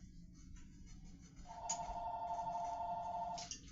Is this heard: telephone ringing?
yes